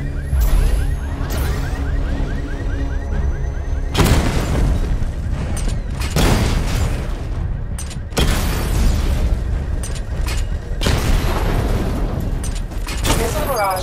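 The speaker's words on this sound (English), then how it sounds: "Destroy targets to charge up weapon energy and activate missile barrage" Loud booming explosions from a missile barrage destroying targets in Batman: Arkham Knight, several heavy blasts landing at intervals over a constant rumbling roar, with a brief robotic voice early on.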